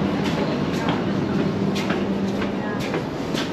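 Steady rumble and broadband rattle inside a moving passenger train carriage, with faint intermittent clicks over a continuous low drone and no talk.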